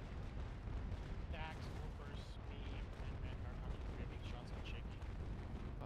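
Ship cannon fire from a naval battle in the age-of-sail game Naval Action, sinking pirates at Bluefields: a dense, rumbling barrage of booms continuing throughout, with voices talking faintly underneath.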